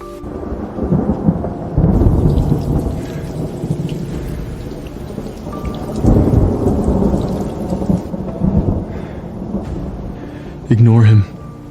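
Heavy rain pours in a dense, loud hiss while thunder rolls and rumbles through it in several low swells, one near the start and another midway, with a short vocal sound near the end.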